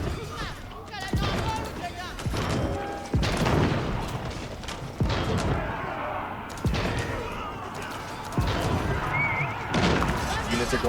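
An Age of Empires IV tournament battle plays out with repeated booming cannon shots and thuds of fighting units at irregular intervals under steady commentary.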